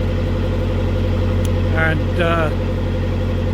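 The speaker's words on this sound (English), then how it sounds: "I've just put my revs up another 100, 150, 200 RPMs" A narrowboat engine runs steadily at raised revs with a low, even thrum from close by, while someone speaks briefly over it.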